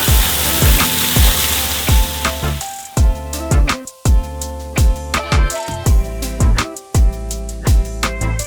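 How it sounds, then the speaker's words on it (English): Meguiar's Detailer Iron Removing Spray Clay sprayed onto racing car wheels in short, loud bursts, about a dozen quick hissing sprays in a steady rhythm with brief pauses between them. "we're gonna be using this Meguiar's Detailer Iron Removing Spray Clay"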